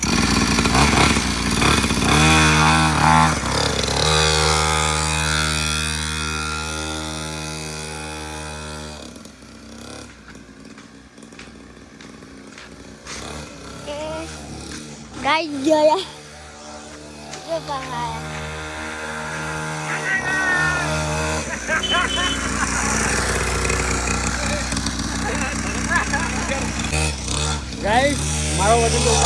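Small motorcycle engine buzzing and droning under the rider while it is being ridden, pitch rising and falling with throttle across the stretch, with a quieter lull in the middle and people talking and laughing over it.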